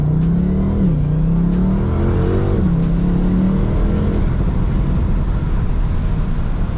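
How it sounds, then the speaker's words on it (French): A BMW M850i with a biturbo V8 revs up and down in a steady, loud drone, pitch rising and falling a few times while turbo whoosh sits on top, with no talking. "On entend le bruit du turbo aussi."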